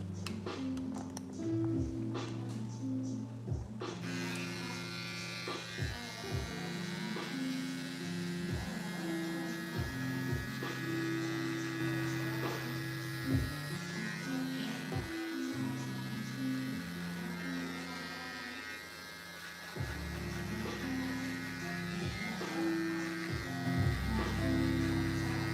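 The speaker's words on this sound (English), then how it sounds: "Make sure that you're pressing lightly with your trimmers." Electric hair trimmer buzzing steadily and close during a double zero fade on difficult straight hair, with a constant mains-like hum and small clicks and shifts in pitch as the blade moves over the head. No one speaks.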